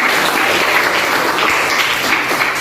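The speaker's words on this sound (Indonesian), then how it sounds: "Tepuk tangan buat kita semua." Steady, loud applause from a classroom of students fills the whole stretch, dense clapping without pause.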